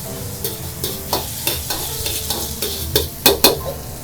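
Chili sauce (jiang) is stir-fried over low heat in a pan with chilies that have turned red, producing a continuous close sizzle punctuated by regular clacking scrapes of a utensil, the last few strokes sharper and louder, with no voices.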